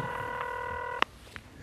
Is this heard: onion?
no